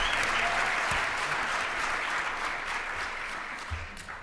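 Audience applause at an AVID Urban Leaders Convening for six young student panelists, a dense, sustained round of clapping that gradually thins and fades toward the end.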